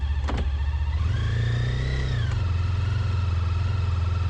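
A brand new Honda Goldwing motorcycle cruising on a coastal road loop in Ormond Beach, its engine humming steadily and close with a smooth rise in pitch as it accelerates, then settling into an even drone.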